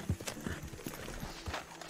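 Horse hooves from Red Dead Redemption 2 beat out a steady clip-clop rhythm at moderate volume over a continuous outdoor game ambience, with no talking.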